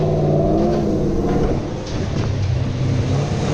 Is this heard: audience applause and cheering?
no